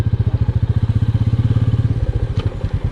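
A motorcycle rumbles steadily with a fast, even low thumping exhaust pulse on a long road ride between Haldwani and Dehradun, loud and close, the beat loosening slightly near the end.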